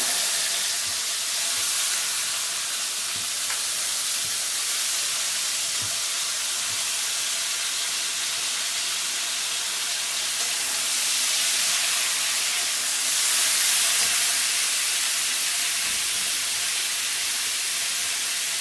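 Pieces of elephant apple sizzle in the hot oil left from frying shrimp, making a loud, continuous close hiss that swells slightly now and then, with no talking.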